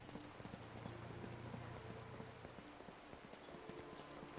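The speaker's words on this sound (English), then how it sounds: "Let's get out of the rain before I get a cold." Steady rain falls in the Lovecraftian horror video game Dreams in the Witch House, a soft constant hiss with faint droplet ticks and a low background hum, no voices.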